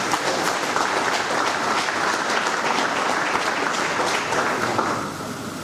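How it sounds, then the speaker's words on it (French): Audience applause at the closing of a Pan-African Postal Union session, a dense steady clapping from a large hall crowd that holds for about five seconds before thinning slightly at the end. "Et je pense que les postiers qui sont ici peuvent applaudir pour eux."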